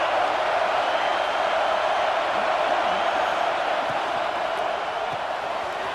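A large stadium crowd at an American football game roars in a broad, sustained wash of cheering and shouting, loud and steady, with no distinct individual voices.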